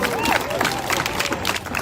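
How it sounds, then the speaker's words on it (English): A crowd at a community rally bursts into applause and cheering, dense and sustained clapping with loud voices calling out over it. "Stand up and give yourselves a round of applause"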